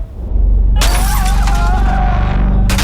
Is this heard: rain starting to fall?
no